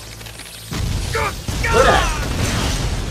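An exploding bat from the Naruto anime bursts with a sudden low boom, followed by rumbling crackle and debris, heard under a reaction voice talking over it.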